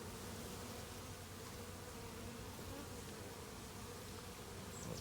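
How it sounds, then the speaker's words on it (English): A dense, steady hum of honeybees during installation of a package of bees into a hive, a continuous close buzz filling the air without pause, no voices. "Look at those bees dropping in."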